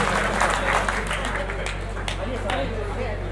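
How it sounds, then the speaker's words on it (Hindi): Audience applause at a Hindi poetry gathering (kavi sammelan) held at a school, a steady wash of clapping mixed with crowd murmur and a steady low hum throughout. "एक बार इस शुभकामना के लिए ताली बजा दीजिए"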